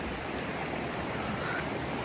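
Shallow river water rushing and splashing around someone walking up a low riverbed on a hike to Pell Stream Hut, a constant even wash with no talking.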